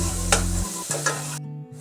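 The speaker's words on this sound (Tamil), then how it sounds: "இப்போ அதையும் இதில் சேர்த்துக்கிறேன். ஆனியன் நல்லா வதங்கட்டும்." Chopped onion sizzles as it sautés in a pan with oil for egg drop soup, with a few scraping stirs of a spoon over steady close frying hiss, no talking.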